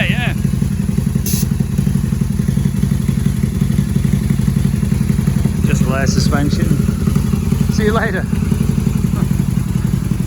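A Harley-Davidson V-Rod motorcycle fitted with new slash-cut exhaust mufflers idles with a deep, steady, pulsing throb, close and loud, while a couple of people talk briefly over it.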